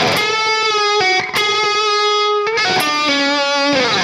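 Distorted electric guitar playing a short lick, notes preceded by quick muted raking pick strums before ringing out, loud and close with no talking.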